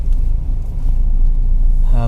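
Continuous low rumble of road traffic from cars moving along a busy road, steady and close, with a brief voice starting right at the end.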